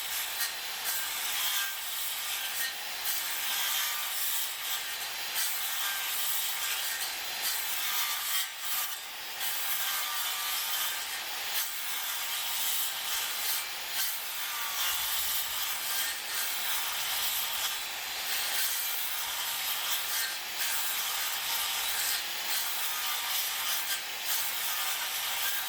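A hand saw cuts through wood for a lap joint in a continuous run of rhythmic rasping back-and-forth strokes. The sound is close and steady, with no talking.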